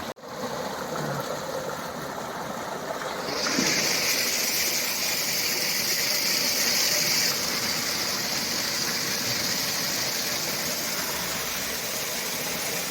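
Water gushes steadily from a tubewell pipe, a constant rushing hiss that swells slightly louder after a few seconds and runs unbroken throughout, with no talking.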